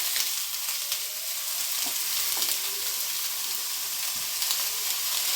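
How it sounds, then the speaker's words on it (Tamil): Chopped onion, cabbage, beans, carrot and capsicum fry in hot oil, giving a steady, close sizzle with faint occasional stirring scrapes and no talking. "இது எல்லாமே நல்லா ஃப்ரை பண்ணிடலாங்க."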